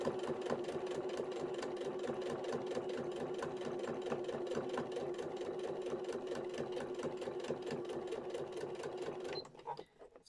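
Sewing machine stitching through a vinyl-fronted project bag, a steady, fast, close needle rhythm running continuously for about nine seconds before stopping abruptly near the end.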